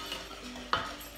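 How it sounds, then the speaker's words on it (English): A chocolate mixture is stirred round in a bowl, giving a soft, steady scraping with one sharp clink partway through, close and fairly quiet. "And then we're going to mix that round to make a nice chocolatey"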